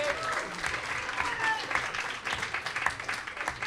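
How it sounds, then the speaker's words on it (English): An audience at a comedy gong show applauds steadily, a dense wash of clapping heard up close and fairly loud, with a few voices faintly mixed in. "Big round of applause for Charlie."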